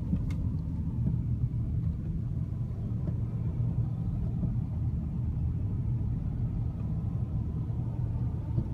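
From inside, a car rolls through a roundabout with a low, steady engine rumble and road noise, no voices.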